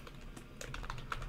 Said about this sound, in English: you're gonna be typing your cell phone number here, and then email address here.